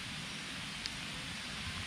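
Rain falls outdoors among rows of rubber trees, a steady broadband hiss that stays even throughout, with one small tap partway through and no voices.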